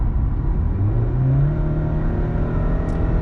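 A Chevy Malibu engine revs up hard with a dense, rumbling roar that rises in pitch, then holds at a loud, steady drone.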